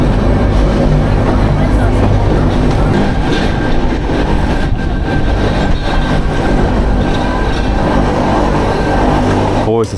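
A passenger train carriage pulls away with a continuous loud rumble and rattling clatter of wheels on rails, heard from inside the carriage.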